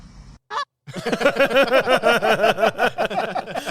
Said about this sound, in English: It was a goose.